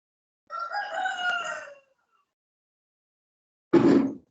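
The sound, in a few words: chicken crowing and clucking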